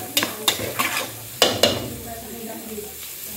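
Onion frying in a pan with garlic and oil for pasta, stirred with several sharp utensil scrapes and knocks against the pan over a steady sizzle, close and fairly loud.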